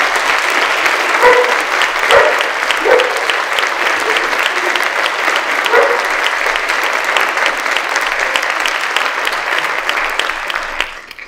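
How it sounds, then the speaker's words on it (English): An audience at a celebration honoring Miss Indian World 2024-2025 breaks into loud, sustained applause, with dense clapping that holds steady for about eleven seconds before tapering off at the end. "So give a big round of applause to Kassie John."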